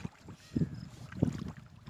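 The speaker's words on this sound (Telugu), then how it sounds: "సో ఇలా మనకి పడవ ఇలా జాయిగా వెళ్తుంది" A boat moves along a rope across a fish pond on a pangas fish farm, with two soft low sloshes of water against the hull over a faint breezy background.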